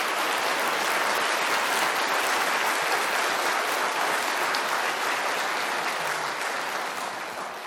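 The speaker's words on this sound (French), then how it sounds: "Je crois que ces applaudissements auraient fortement réjoui Lalande" An audience applauding in a lecture hall for a new astronomer at a French academic institution, a loud, dense and sustained wash of clapping that fades slightly near the end.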